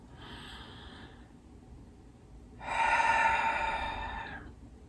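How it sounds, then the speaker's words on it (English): A slow, deep full breath, with a soft inhale followed after a pause by a louder, longer exhale, close and quiet in a calm yoga session setting. "Let's take a nice full breath."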